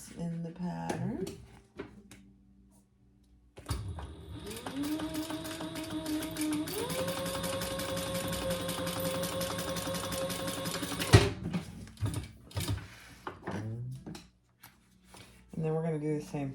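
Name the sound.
sewing machine stitching bag pockets at the seam allowance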